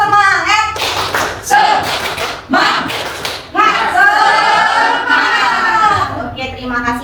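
A classroom group performing the rhythmic tepuk semangat spirit clap as a morning ice breaker, loud patterned bursts of hand claps in sequence with voices chanting along between them.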